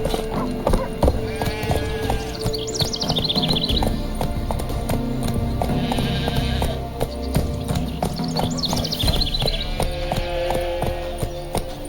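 Hooves of Roach, a horse in The Witcher 3: Wild Hunt, clip-clop steadily at a brisk pace, close and loud, with brief whinnies and a game soundtrack and voices in the background.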